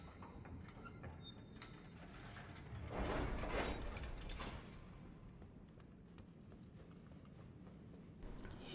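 An elevator mechanism in the video game Elden Ring, a mechanical rumbling and ratcheting that swells for about a second and a half before settling back into a low steady background hum.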